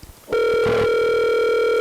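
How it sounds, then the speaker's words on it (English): A telephone ring begins abruptly as a loud, steady electronic tone with bright harmonics, sustained and close, following a brief moment of low background noise. "Answer your phone!"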